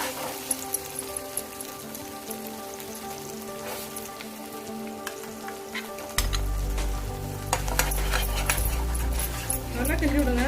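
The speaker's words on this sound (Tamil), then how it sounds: "நெய் இருக்கனால கொதிக்கும். கொதிக்கிறப்ப தெரிக்கும், மேலே கொதிக்கும், மேலே வந்து விழும்." Steady sizzling and crackling of carrot paste frying in hot ghee for carrot halwa, loud and close, with spattering pops and a voice talking over it.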